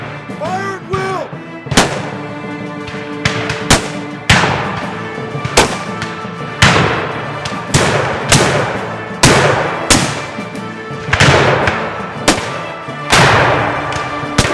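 A loud, close action-movie battle against Union soldiers, with booming shots and blasts hitting roughly every one to two seconds, sustained and dense, with a few voices underneath.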